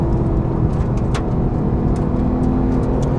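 A 2015 Porsche 991 911 GT3 engine drones loudly and steadily throughout, a dense, continuous mechanical roar with a few brief higher-pitched flares on top and no voices.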